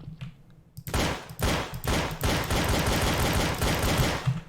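Rapid bursts of automatic gunfire in a video game, loud and close, several rattling volleys with brief pauses between them.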